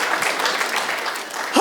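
A comedy club audience claps, a lively burst of applause that thins slightly before a voice cuts in at the very end.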